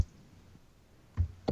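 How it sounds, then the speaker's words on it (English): Keyboard typing picked up by a voice-chat microphone during an online game session: a few faint, isolated key clicks spaced apart over a quiet background, with no talking. "Am I typing too loud?"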